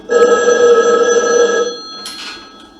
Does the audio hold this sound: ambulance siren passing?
no